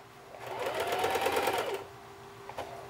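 A Singer Heavy Duty sewing machine runs at good speed in one steady, whirring burst of about a second and a half, close up, then stops with a small click and no talk.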